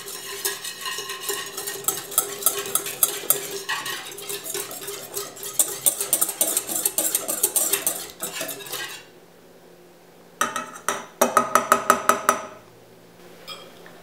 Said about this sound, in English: And then we are going to whisk this all together.